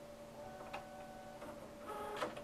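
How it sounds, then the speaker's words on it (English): A Windows printer runs a print job, whirring with steady mechanical tones and a few soft clicks and ticks, faint and close, with no one talking. "the file will then be sent to my Windows printer"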